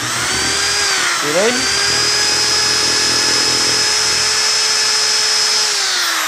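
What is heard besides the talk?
electric drill running at full speed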